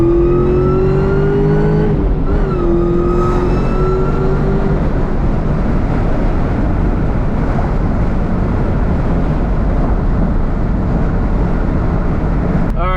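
A 2004 SVT Cobra pulls hard in third gear, its engine note rising loud and steady before a gear change near two seconds, then a roaring drone with heavy wind noise from open windows.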